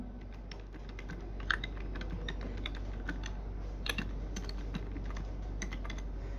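Steady, fairly quiet typing on a computer keyboard, with irregular key clicks and a few slightly louder taps, heard alone without speech.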